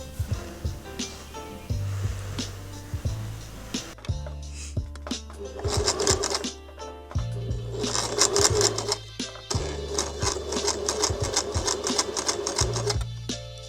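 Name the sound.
sewing machine sewing a tag onto a keychain purse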